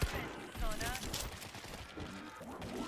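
Bursts of gunfire in the video game World War Z, Jerusalem level, crackle over excited talk, several quick shots mixed with game noise and overlapping voices.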